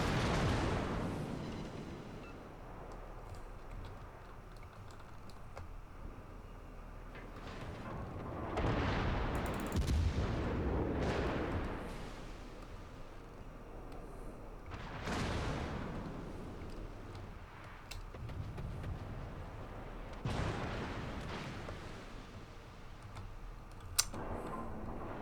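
The guns of the warship Goliath fire in World of Warships, booming salvos spaced several seconds apart over a low, rumbling sea-battle background.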